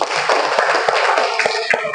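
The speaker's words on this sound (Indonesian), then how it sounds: "Tepuk tangan dulu untuk Agam." A classroom of students gives a short round of applause for a classmate, a brief, loud flurry of overlapping hand claps lasting about two seconds.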